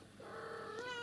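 A white kitten indoors lets out a single rising, drawn-out meow, close and fairly clear against a quiet room.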